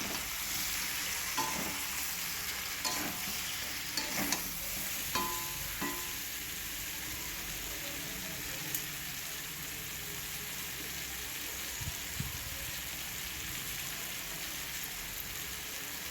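Shukto vegetables frying in a pan with turmeric and cumin powder, a steady soft sizzle with a few scraping stirs near the start, fairly quiet and continuous with no talk.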